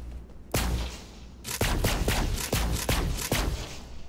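An ice and radiation gun fires in Borderlands 3: one shot, a short pause, then a rapid run of about eight sharp, loud reports in an uneven rhythm.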